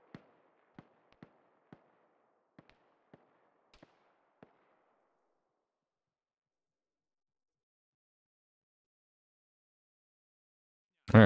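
Distant gunfire in a military video game, about a dozen sharp isolated cracks spaced irregularly over a few seconds, then long silence before a brief loud burst at the end.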